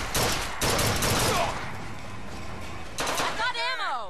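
Bursts of gunfire in the first-person shooter Bioshock Infinite, loud rapid volleys at the start, a lull, then another burst followed by a whooshing, warbling effect, with game voices underneath.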